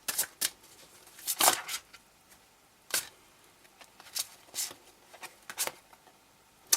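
Tarot cards being shuffled and drawn by hand during a reading, heard as close, sharp riffling bursts and soft slaps spaced irregularly over several seconds, with quiet rustling between them and no talk.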